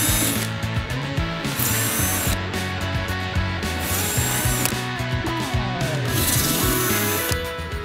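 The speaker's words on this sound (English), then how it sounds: "the size of the holes in your pumpkin will correspond to the size of your drill bit" A power drill bores holes into a pumpkin, its motor whining steadily for several seconds in a continuous loud grind, with brief dips where the bit pauses and restarts.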